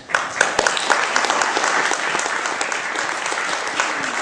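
Audience applause for local office candidates at a Libertarian political rally, a dense, steady wash of clapping from a sizeable crowd that holds at an even level throughout.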